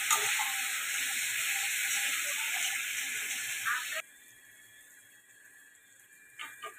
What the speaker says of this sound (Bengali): এবার একটু অল্প করে জল দিয়ে দিচ্ছি,